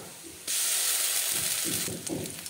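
Onion slices and ginger-garlic paste hitting hot oil with a bay leaf, a sudden loud hiss that keeps sizzling steadily, with faint stirring clatter toward the end.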